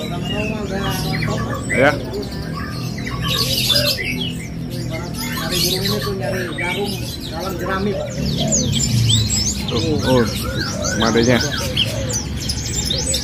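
Small songbirds at a bird kiosk in a market chirp and sing without pause, with busy overlapping calls and squawks close by while people talk over them.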